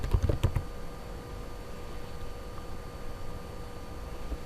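Several quick keystrokes on a computer keyboard while entering a heading into an Excel spreadsheet, clustered near the start and then giving way to quiet room tone, with one more faint tap at the very end.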